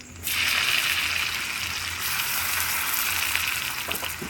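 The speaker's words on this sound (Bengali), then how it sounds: "একই তেলের মধ্যে দুটো শুকনো লঙ্কা, আদা কুচি, রসুন কুচি" Two dried red chillies with chopped ginger and garlic hit hot oil in a pan, bursting into a loud, steady close sizzle that holds evenly throughout, with faint stirring clinks near the end.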